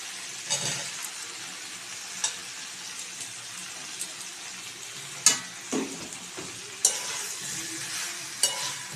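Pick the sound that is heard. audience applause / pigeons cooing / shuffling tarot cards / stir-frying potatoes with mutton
stir-frying potatoes with mutton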